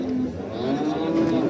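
Calves mooing steadily at a cattle market in Barda, a continuous close bovine lowing with a busy crowd murmur underneath.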